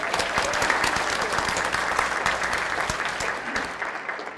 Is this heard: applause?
yes